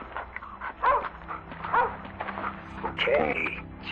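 A dog in The Division 2 video game gives a few short barks and yips under game dialogue and ambient background sound.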